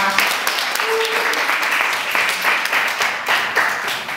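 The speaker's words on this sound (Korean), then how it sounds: "1년간 수고해준 다원 학생에게 다시 한번 큰 박수 부탁드립니다." An audience at a university academic and cultural festival claps for a student: a dense, moderately loud round of applause with individual claps standing out and rising and falling slightly.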